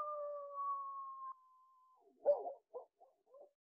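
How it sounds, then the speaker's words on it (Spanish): A dog howls in a long, sustained, wavering tone, then gives a few short, faint barks or yips; no one speaks. "Escuchamos cuando ladra el perrito."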